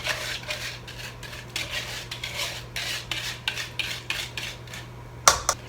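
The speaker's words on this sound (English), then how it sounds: "And we just whisk this until it all comes together." Wheat bran muffin batter with buttermilk being whisked in a bowl, a run of quick scraping, rasping strokes with a light metallic clink, close and steady, ending with a sharper clatter.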